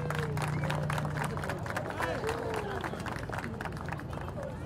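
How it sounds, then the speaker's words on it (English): A crowd at a college softball tournament applauds steadily, a dense wash of clapping with a voice announcing over it. "how about a round of applause for Jocelyn Davis?"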